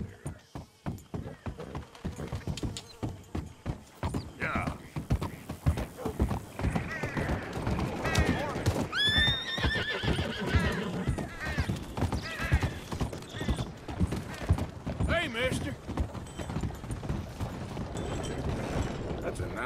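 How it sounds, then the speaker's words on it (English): Horse hooves clip-clop steadily through a Red Dead Redemption 2 game scene, with a neigh partway through, under intermittent talk and other game sounds. "Nice horse."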